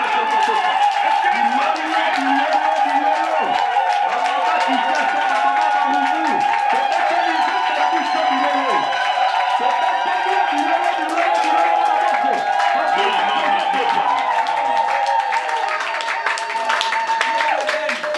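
A large gathering of church women in Mbandaka breaks into loud, sustained applause and cheering acclamations, with whoops and ululating voices riding over continuous clapping throughout.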